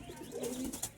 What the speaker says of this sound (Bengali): এটা মাদি পায়রা মালবাই